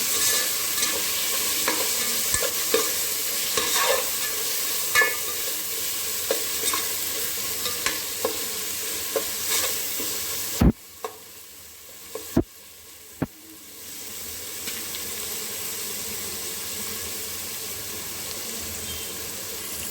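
Spices and green chillies sizzle steadily in a pan for egg biryani while a spoon scrapes and stirs with repeated clicks, then the frying drops quieter and a few sharp knocks follow.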